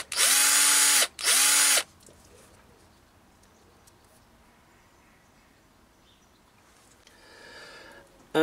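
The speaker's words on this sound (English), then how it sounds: "now I just put a countersink in just to clean up that edge there" Two loud bursts of a drill driving a countersink bit into a metal edge, each about a second long with a short gap between, followed by quiet room tone and faint birds cooing.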